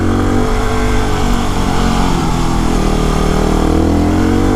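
A motorcycle engine drones loud and constant while riding a winding mountain road, a steady mid-pitched roar with slight shifts in revs and no voices.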